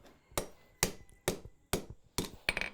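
Hammer blows on hot steel bar stock at a blacksmith's anvil while curling a beveled bar end tight, six sharp ringing strikes spaced about half a second apart, close and clear with no talk.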